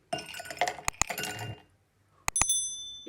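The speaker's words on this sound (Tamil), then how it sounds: "இப்போ வந்து ஐஸ் கட்டியை சேர்த்துக்கொள்றேன்." Ice cubes clink against a glass for a summer drink in a few sharp, bright bursts, close and clear, with a short quiet pause before a final rattle of cubes.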